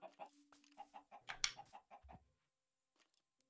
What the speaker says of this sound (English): I got a chicken.